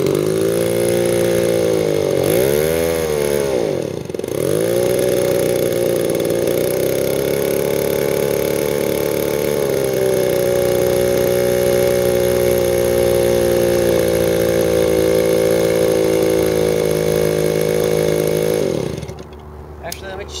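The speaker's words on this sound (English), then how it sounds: "let me start up all the chainsaws first, because all those together sound pretty cool" Several 2-stroke chainsaws run together at close range in a loud, steady, droning buzz, with brief revving dips near the start and the sound cutting off near the end.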